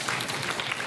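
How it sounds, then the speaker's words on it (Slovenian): Brief burst of applause from a quiz-show audience, steady and fairly loud, lasting under a second. "Aplavz!"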